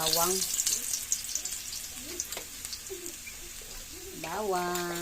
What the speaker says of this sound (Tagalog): gisa na natin yung bawang